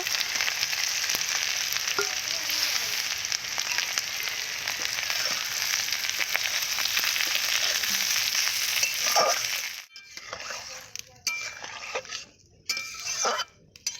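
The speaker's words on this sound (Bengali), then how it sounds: "এইভাবে কষতে কষতে তরকারিটা হয়ে এসেছে, আলু খুব সেদ্ধ হয়ে গেছে" Potato curry stir-fries in a pan with a loud constant sizzle and scraping stirs, then the frying cuts out and only scattered clinks and scrapes of the utensil against the pan remain.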